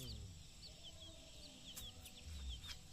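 Chickens clucking softly at feeding time outdoors, a quiet steady flock chatter with a few brief sharper calls over low background noise.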